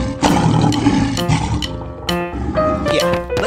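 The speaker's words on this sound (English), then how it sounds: "Lion." A lion roars loudly and up close, a rough, sustained growling roar with several surges across a few seconds, alone without talk.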